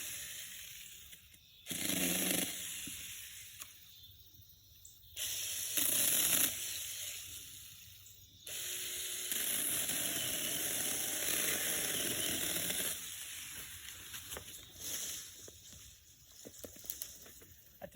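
A cheap Walmart mini saw buzzes in three separate bursts while cutting through a small tree about two inches thick outdoors; the longest cut runs roughly four seconds, with quiet gaps between the bursts.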